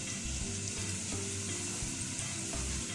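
Whole spices such as cinnamon, cloves, black cardamom and cumin fry in a pot for mutton yakhni pulao, giving a continuous close sizzle with soft stirring scrapes and no talking.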